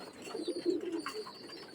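Pure Pakistani pigeons coo softly at close range, a short run of low, throaty rolling coos with faint background hiss and no speech.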